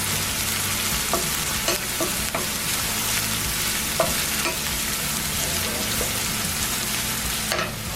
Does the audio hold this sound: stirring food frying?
yes